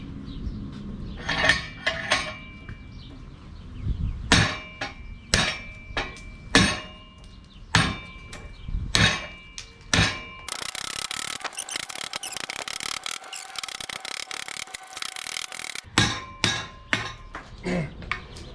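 Sharp chopping blows from a Hmong knife biting into a 2x4 board, a dozen or so distinct whacks in uneven bursts with a steady hissing stretch in the middle, close and fairly loud.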